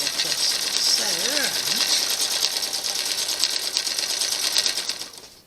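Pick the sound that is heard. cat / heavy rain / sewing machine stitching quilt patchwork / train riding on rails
sewing machine stitching quilt patchwork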